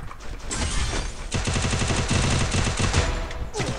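Rapid bursts of Free Fire gunfire rattle loudly and close, with automatic fire pouring out in quick repeated volleys and no talking.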